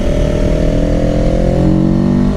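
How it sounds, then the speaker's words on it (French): A motorcycle engine, a Honda VFR 800–like machine, revs loudly and steadily close by, with a high, smooth wail that rises and falls slightly. "On dirait vraiment un VTEC le moteur alors que pas du tout."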